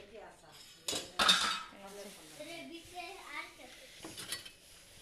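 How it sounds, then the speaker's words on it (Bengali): Saucers clink as they are lifted out of a glass-fronted showcase in a home kitchen, with sharp rattles of crockery near the start and soft clinks afterward while people talk. "শোকেস থেকে সব পিরিচ বের করতেছে"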